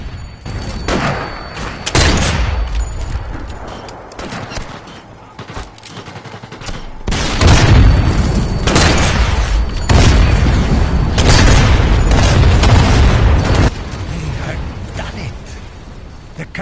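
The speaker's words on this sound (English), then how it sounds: "The captured artillery destroyed the tank and bought us another chance." In the Sniper Elite VR video game, a captured artillery gun fires and destroys a tank: repeated heavy booms over layered battlefield gunfire, loud and close, with a sustained, denser barrage through the middle.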